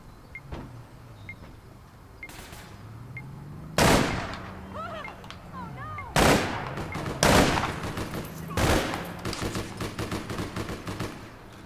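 Gunfire in the video game APB Reloaded rings out in several sharp, loud bursts with rapid shots and echoing tails, spaced across the scene over a low background hum and occasional electronic chirps.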